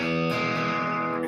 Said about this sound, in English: Part of it's my distorted tone is not great right now.